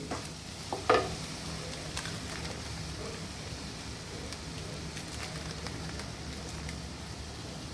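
Biryani masala with coriander powder fries gently in oil for chicken biryani, giving a soft, continuous sizzle with occasional stirring scrapes and a single sharper clink near the start.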